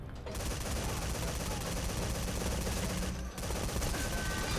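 Machine gun in Metal Gear Solid 5 firing nonstop in a loud, dense, sustained stream that breaks off briefly once before the firing resumes.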